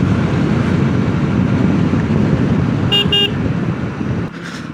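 A vehicle cruising at full speed on a long-distance highway ride, a loud steady road and wind roar filling the clip, with a brief double horn toot from nearby traffic before the noise drops slightly.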